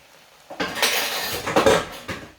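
Metal clatter and scraping of a pan as rice noodles go in for an oil-free stir-fried rice noodle dish with egg, several bright clanks and scrapes over about two seconds, with no talking.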